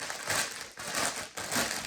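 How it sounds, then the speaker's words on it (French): A plastic bag crinkles and crunches close by in three bursts with brief pauses between them, with no speech. "Ils peuvent pas trouver une autre solution que des sacs qui fassent du bruit"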